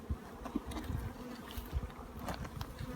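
Honey bees hum around an opened beehive, a faint, continuous buzzing with a few nearby knocks and bumps from handling the hive.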